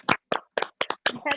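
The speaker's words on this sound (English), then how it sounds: "Clap for yourself." An audience claps for themselves in a short burst of loud, close hand claps, six or so quick slaps in an uneven rhythm with no talk over them.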